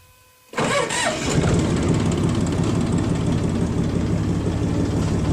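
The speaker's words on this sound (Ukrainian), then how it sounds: "йду я зараз спробую завести трактора і покажу, як він то все працює" A tractor engine cranks briefly and catches, then settles into a loud, steady running rumble close by, driving a trial run of a garlic harvester.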